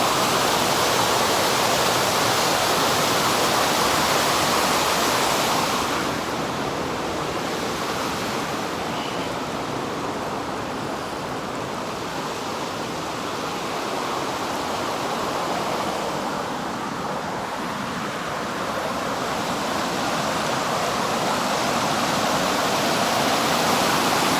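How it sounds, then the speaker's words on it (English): A waterfall near a hydroelectric powerhouse roars steadily as a dense, broadband rush of falling water, loud and close, easing slightly in the middle before swelling again, with no voices. "I'm gonna go walk down here to the waterfalls this morning"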